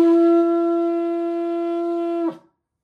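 A single long shofar blast, the tekiah, holding one steady bright horn tone for about two seconds before breaking off abruptly, loud and close with no speech.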